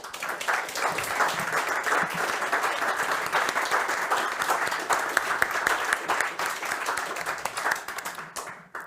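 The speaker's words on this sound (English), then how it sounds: "Can we please thank our governing board members and everybody who was a candidate as well," A room full of people gives a sustained round of applause for the governing board members and candidates at a community meeting, dense steady clapping that holds for several seconds before tapering off at the end.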